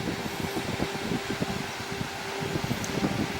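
A Titan RV roof vent cooling fan runs with a steady hum, accompanied by a continuous breathy whoosh of moving air and light fluttering.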